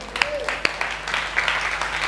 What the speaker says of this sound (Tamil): கைத்தட்டு பார்க்கலாம்.